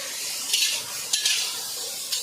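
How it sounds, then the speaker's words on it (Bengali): Shrimp frying in a pan, a steady hiss with a few sharp metallic clinks of utensils against the pan, close and alone with no talk. "এখন চিংড়ি মাছ ভাজা করছে"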